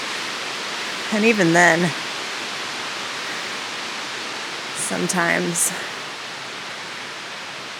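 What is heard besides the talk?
running water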